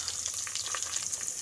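Onion and curry leaves fry in a pan for bisi bele bhaat, giving a steady, close crackling sizzle with scattered pops throughout, no voices.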